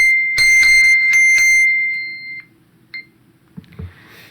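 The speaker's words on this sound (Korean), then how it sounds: "알람이 막 오네요. 얼럿이 뭐 이 주변에 문제가 생긴 모양입니다." Emergency alert alarm sounding from a phone: a string of sharp high beeps repeating for about two seconds, then fading into quiet with a few faint tones and soft knocks.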